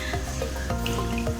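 Water draining off soaked potato slices through a strainer, a continuous trickling and dripping splash close by, steady throughout the short moment.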